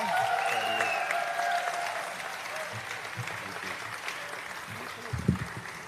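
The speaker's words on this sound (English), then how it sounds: "Please give him a round of applause" Audience at a live awards event claps for an honoree, moderate steady applause that gradually thins out, with a few louder thumps near the end.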